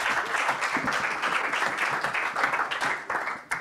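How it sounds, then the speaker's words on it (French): An audience at a university science-communication contest final claps loudly and continuously, a dense close wash of applause that tapers off briefly at the very end. "C'était Eva Artusi qu'on applaudit très fort."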